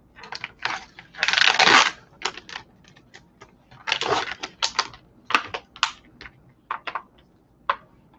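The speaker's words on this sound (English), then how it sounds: "Peels apart very nice and easy," Slices of Aldi deli Monterey Jack cheese with habanero and jalapeno peppers being peeled apart up close, giving sticky, crackling rustles in short bursts with brief pauses between them and no voices.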